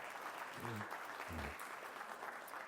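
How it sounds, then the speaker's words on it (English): Applause from an audience at a Michigan talk, a steady broadband wash of clapping that continues throughout, with a voice speaking briefly over it. "So please give them an applause."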